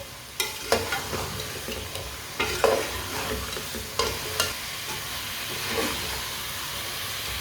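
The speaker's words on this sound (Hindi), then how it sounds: "कटे हुए छलजम डाल लेंगे। अच्छी तरह मिक्स कर लेंगे।" Finely chopped turnips sizzle in a hot pan while a spoon scrapes and stirs them, giving repeated soft knocks and scraping strokes over a steady frying hiss, close and moderately quiet.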